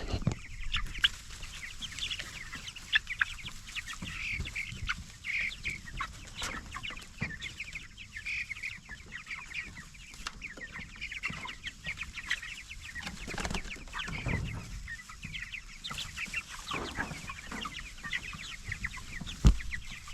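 White chickens on a farm peck at tall grass inside 10 by 10 crates, clucking softly and continuously with scattered close chirps and rustling, fairly quiet and without speech.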